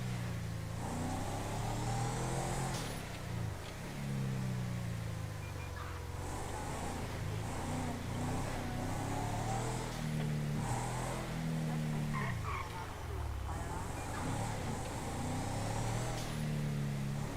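Passing car and truck engines in GTA traffic around Los Angeles-style streets, with mid-pitched motors revving and accelerating in repeated swells, several vehicles overlapping at moderate distance.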